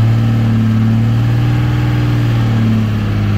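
A Cummins 188/220 engine runs at high RPM during flat tappet cam break-in, a loud, steady, sustained drone that holds constant close up and eases very slightly near the end, with no talk.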